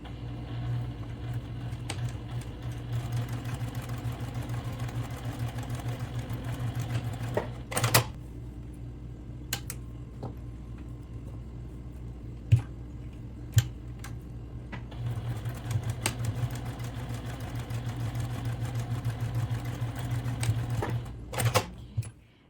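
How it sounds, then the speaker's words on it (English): A sewing machine stitches across the handle fabrics of a homemade eco bag, running in a fast, even rhythmic chatter with a few brief pauses and sharp clicks between runs. "we're going to take it to the sewing machine, and then we're going to stitch here across of both of these handle fabrics"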